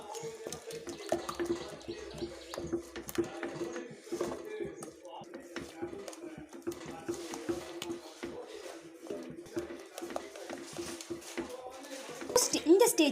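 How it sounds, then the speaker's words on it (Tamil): Water goes into a pan of ground roasted gram paste for a coconut milk sweet and is stirred, giving a steady sloshing and scraping texture beneath continuous talk in Tamil. "இப்போ இது கூட தண்ணி சேர்த்துக்கலாம்."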